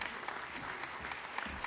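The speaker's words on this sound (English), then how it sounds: "Please give them a round of applause." Audience applause at a stage pitch event, a steady wash of many hands clapping at low level, fairly distant and continuous throughout.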